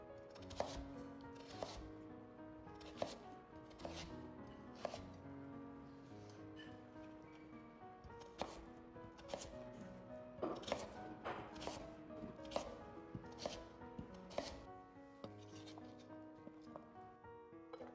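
A knife cuts a peeled potato into cubes on a board, a run of crisp, fairly quiet chopping knocks in irregular bursts, close and alone.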